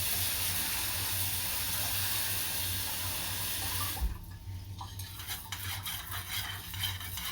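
Rice is rinsed under a running kitchen tap in a sink: a steady hiss of flowing water for several seconds, then the tap stops and close, lighter swirling splashes and a few soft clinks follow.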